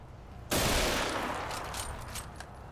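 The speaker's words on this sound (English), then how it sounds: "Another shotgun." Shotgun fire in a video game, one loud sudden blast that hits hard and then tails off into a rattling decay with a few fainter follow-up cracks.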